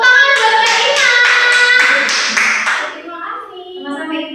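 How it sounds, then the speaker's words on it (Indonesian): A primary school class claps for a student after a procedure demonstration, a few seconds of rhythmic group clapping mixed with children's voices, then fading as speech takes over near the end. "tepuk tangan buat Mbak Ima"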